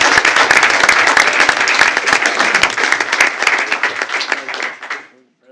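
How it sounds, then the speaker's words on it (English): An audience at a school board of trustees meeting breaks into loud, sustained clapping, dense and continuous, gradually thinning before it stops abruptly near the end. "So how about a big giant round of applause for Mr."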